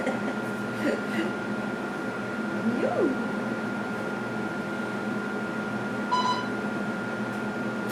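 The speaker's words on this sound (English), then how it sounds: "There's a lot of beeping going on." A short electronic beep rings out once over a steady hum of machinery, with a few faint chirps earlier.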